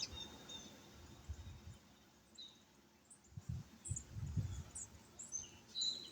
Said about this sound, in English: Y'all can probably hear the birds too.